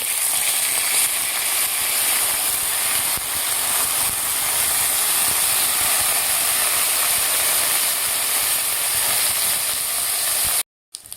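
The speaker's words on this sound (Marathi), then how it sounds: "तांदूळ घातल्यानंतर आपल्याला व्यवस्थित परतून घ्यायचं आहे।" Soaked, drained rice stirred into hot ghee for traditional Maharashtrian coconut rice, giving a steady loud hiss and sizzle that continues unbroken before cutting off abruptly at the very end.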